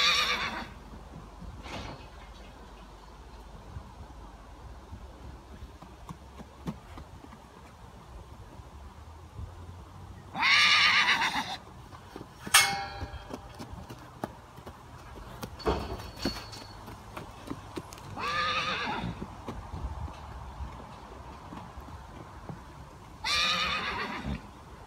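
A weaning foal whinnies in several loud, drawn-out calls spread across the stretch, set against steady outdoor background noise with occasional hoof clops and knocks.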